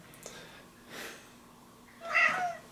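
A house cat meows, with a faint call near the start and a louder, clearer meow about two seconds in, heard alone in a quiet room.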